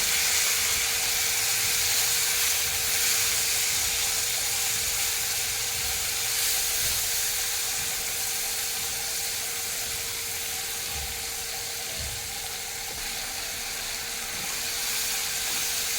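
Masala for egg curry sizzles while being stir-fried in a pan, giving a continuous, even hiss with faint stirring knocks beneath it.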